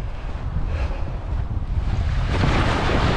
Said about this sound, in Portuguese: Claro que vou ter que andar a fugir das ondas, né?